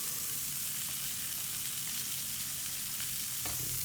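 Ribeye steak frying in butter in a pan, a dense continuous sizzle with soft crackles, steady and close throughout.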